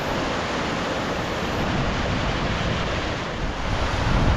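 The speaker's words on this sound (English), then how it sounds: "We've got rather stunning waterfall to the head of us here" A waterfall pours and roars continuously close by on a Northumberland hill walk, loud and broadband, with wind buffeting the microphone.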